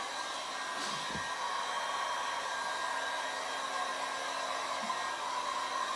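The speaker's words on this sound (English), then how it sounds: "I've got a heat gun, but you can use an hairdryer." A continuous, steady whirring heat gun on low heat drying paint on a leather sofa, with a hot-air rush, close and unchanging throughout, with no talking.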